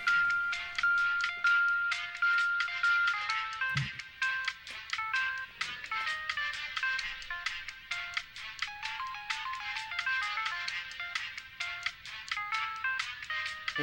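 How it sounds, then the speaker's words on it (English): A bright, busy electronic jingle from a Virtual Boy game menu plays continuously, with rapid high-pitched chiming notes and no talk. "If you hear a jingle, that means it went to menu."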